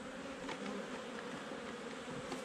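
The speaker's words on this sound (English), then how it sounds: "It's a good amount of bees in here." A dense, steady hum of many honey bees inside an open hive during an inspection, close and continuous with no voices.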